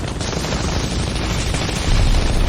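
Dense, continuous gunfire in a dubbed action drama, a sustained roaring barrage of overlapping shots with no clear gaps that grows slightly louder toward the end, with no voices heard.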